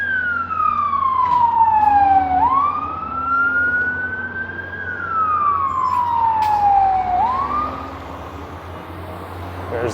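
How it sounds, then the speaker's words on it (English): A fire engine goes up Birchmount on a January street in Scarborough, Toronto, its loud wailing siren rising and falling twice as it passes close by, over traffic rumble. "Here comes a fire engine up Birchmount."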